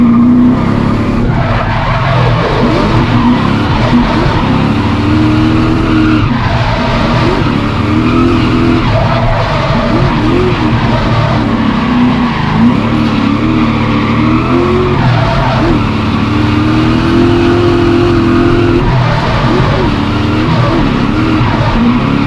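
A BMW E36 engine revs hard and loud against its limiter while the tires skid and squeal, a steady, dense roar of engine and screeching rubber throughout with no talking.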